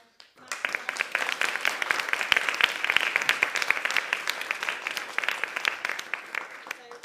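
Applause for children after their performance at an Easwaramma Day celebration programme. It starts abruptly after a brief quiet moment, then holds as a full, moderately loud round of clapping and eases slightly near the end.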